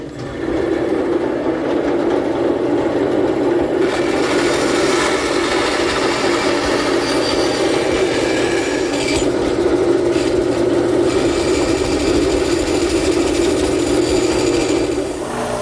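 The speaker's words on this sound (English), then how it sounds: "I'll make the cut at the bandsaw" A bandsaw cuts a decorative cutout into a pine base piece for an old-style pine bar, a steady loud whirring drone that holds for about fifteen seconds with no talk.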